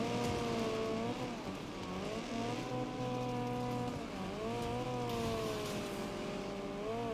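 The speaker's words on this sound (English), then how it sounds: "Doing that Honda Civic rev limiter takeoff there." A Honda Civic in the racing game Wreckfest 2 holds its engine at the rev limiter for a takeoff, a steady high buzzing drone with slight pitch wobbles and a dip midway, loud and continuous without talk.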